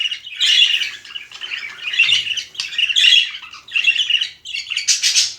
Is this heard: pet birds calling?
yes